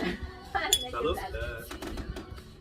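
Glasses clinking during a toast at a birthday party, several quick bright chinks mixed with cutlery and dish clatter while people talk and cheer close by.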